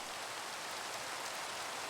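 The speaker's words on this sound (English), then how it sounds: "And it's raining." Steady rain falls in the Minecraft modpack SevTech Ages, a soft, even wash of broadband hiss that holds constant and fairly quiet with no voices over it.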